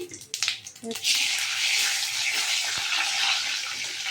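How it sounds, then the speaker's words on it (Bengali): Whole cumin seeds hit hot oil after a brief clatter, then crackle and sizzle steadily, a continuous bright frying hiss close by. "আমি তেলে গোটা জিরে দিয়ে দিয়েছি।"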